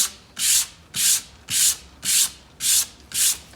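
Painted wood being hand-sanded along the grain: six steady, evenly spaced rasping strokes, each a bright scratchy sweep roughly half a second long, close and fairly loud with no talking.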